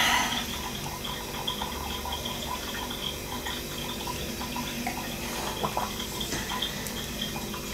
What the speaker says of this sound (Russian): у меня там вода вытекает в раковины